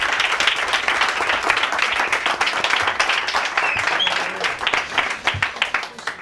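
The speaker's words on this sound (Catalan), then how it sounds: "Un aplaudiment per les professores." Schoolchildren and staff at a school playground give the teachers a round of applause, a dense, lively clatter of many hands clapping close by, sustained throughout with a few brief voices mixed in.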